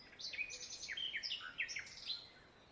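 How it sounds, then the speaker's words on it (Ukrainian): Several birds chirp and trill in quick, high-pitched bursts in a forest clearing, faint and a little distant over a quiet background. "послухаємо, як співають птахи"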